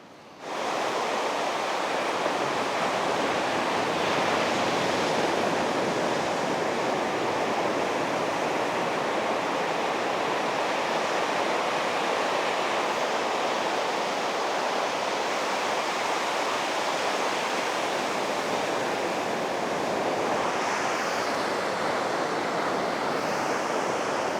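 Surf waves break on a beach at Mallacoota at night, a steady, loud wash of rushing water and foam that fills the whole stretch without pause. No voices are heard.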